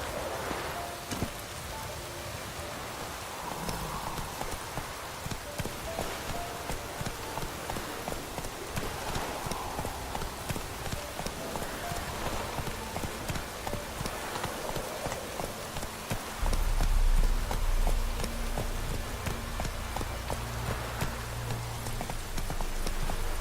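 Geralt's horse Roach in The Witcher 3 video game, hooves clip-clopping steadily through rain, a continuous wet patter and game ambience filling the background with no talk.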